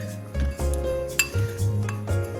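Spoon mixing dry spice powders in a bowl for chicken shami kebab, producing loud, close clinks and scrapes of metal against the dish in uneven bursts, with no talking.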